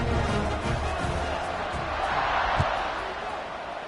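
Stadium crowd at a football game as the kickoff is set up, a steady broad roar of voices under commentary, with a brief thump near the end.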